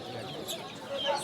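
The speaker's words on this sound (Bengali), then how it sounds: "সিল্কি মুরগি বলে এগুলোকে দেখতে পারো" Silkie hens at a busy bird and pet market cluck softly amid crowd murmur, with a few thin chirps from other birds near the end.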